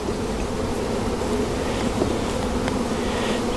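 Dense, steady buzzing of many honey bees inside an opened hive during a hive check, at close range, a continuous loud drone with no pauses or voices.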